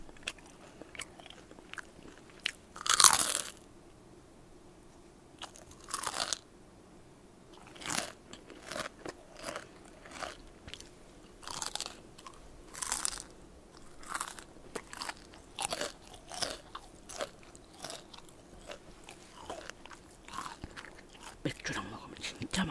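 Fried KFC chicken skin being eaten up close: a loud first bite, then a long run of sharp, crisp crunches in an uneven chewing rhythm with quiet moments between them.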